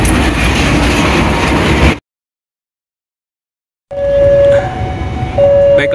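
The Malabar train rumbles and clatters close by at Kiaracondong station in Bandung, breaks off into silence, then returns with steady rolling noise and a sustained horn-like tone.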